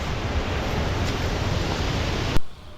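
A waterfall at Encantadora Falls in Vintar, Ilocos Norte, roars as loud, steady broadband rushing water that cuts off abruptly just before the end.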